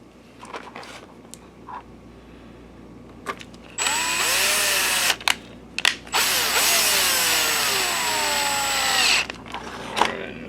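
Close by, a power screwdriver whines in several bursts, driving screws back into a Sanyo PLC-XM150L LCD video projector during repair, with clicks and handling noises between runs.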